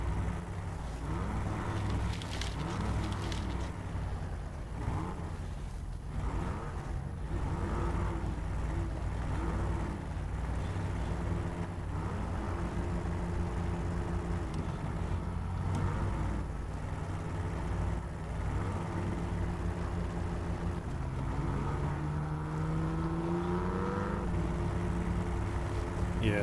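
Truck engine in SnowRunner, driven in hard mode, drones steadily for the whole stretch with shifting pitch and revs, loud and continuous with no talk.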